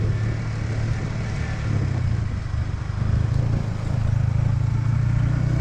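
A Yamaha Vixion R motorcycle engine idles smoothly with a steady low hum and faint mechanical clatter, close by and alone, with no noticeable revving.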